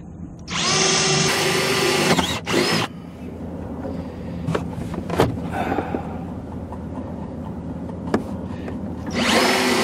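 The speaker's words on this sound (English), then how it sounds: "those two cuts made, or holes drilled rather" A power drill bores holes for access hatches, with a loud close burst of high whine, a second short run, scattered knocks and handling noises in between, and the drill starting up again at the end.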